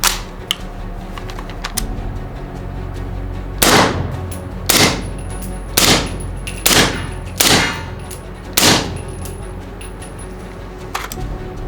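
A rifle fitted with an Otter Creek Labs Infinity suppressor on its unsuppressed setting, at full gas, fires seven sharp reports at irregular intervals, each a loud crack with a brief decay, over quiet background noise.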